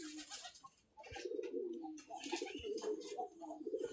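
Domestic pigeons coo inside their loft, with soft, rolling, repeated calls close by and some faint rustling between them.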